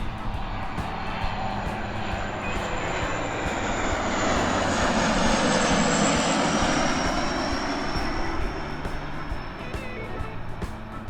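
A fixed-wing airplane passes overhead, its engine roar rising loud and broad, peaking near the middle, then slowly fading, steady throughout with no talk.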